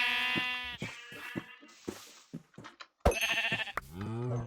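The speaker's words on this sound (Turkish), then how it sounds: "Siyah koyun buldum." Sheep in the video game Minecraft bleat in several quick, wavering calls, loud and close, with short gaps between them and no talk over them.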